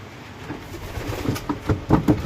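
Pigeons at feeding time give soft, low cooing calls in a few short rhythmic bursts, growing a little fuller toward the end, heard close over a light ambient background with no speech.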